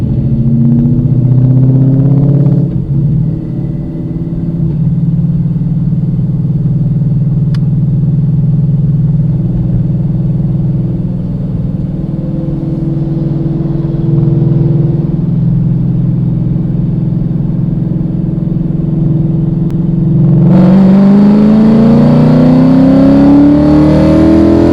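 A 2016 Ford Mustang GT with a Coyote V8 drones loud and close at a steady pitch, then revs and climbs sharply in pitch near the end.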